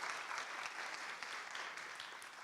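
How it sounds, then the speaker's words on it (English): An audience claps in a steady wash of applause at a college faculty flex day opening event, sustained and even throughout with no one speaking. "give a round of applause for those individuals"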